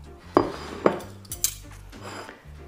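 A plate is taken from a stack in a kitchen: two sharp ceramic clinks, then softer clattering of dishes and cutlery, close and with no one talking.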